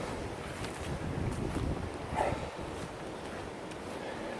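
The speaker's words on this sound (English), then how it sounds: "Still windy." Strong wind blows across an East Coast sand dune and buffets the microphone in a constant roar that swells briefly midway, heard alone without talk.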